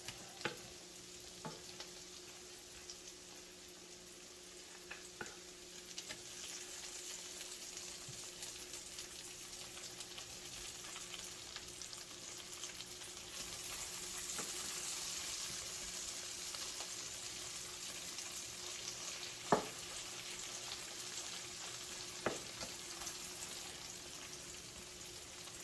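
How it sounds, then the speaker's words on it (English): Crappie fillets fry in hot butter in a pan, giving a steady soft sizzle that swells slightly midway, with a few faint clicks and taps from the cookware. "So once the butter is nice and hot, we'll start laying in some fillets."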